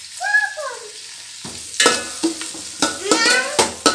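Ingredients for biryani are sautéed in a pan. After a quiet opening with a brief faint tone, a crackling sizzle starts, punctuated by a series of loud stirring scrapes and knocks against the pan at close range.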